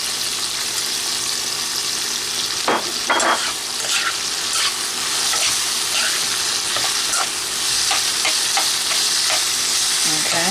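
Pork and halved olives fry in a hot pan, a dense, steady sizzle with occasional stirring clatters and sharp pops, up close with no talking.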